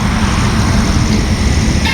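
A group's vehicle on a highway gives a steady, dense rumble of road and engine noise, continuous and fairly loud for the whole stretch with no voices.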